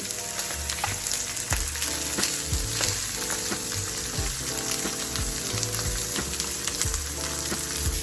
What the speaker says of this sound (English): when your pork chop hits that grease, you want it to get that good sear on it